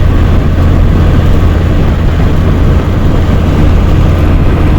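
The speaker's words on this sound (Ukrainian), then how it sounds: "воно так задуває оце у вікно машину, що просто треш" Wind gusting hard against a car window makes a steady, loud, close roar with a heavy low rumble that barely changes for the whole stretch, with no talking.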